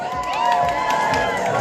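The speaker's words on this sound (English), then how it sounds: "let's give a round of applause for queers" A crowd cheers and applauds at a live event in San Francisco, a steady bed of clapping mixed with whoops and shouts sustained throughout.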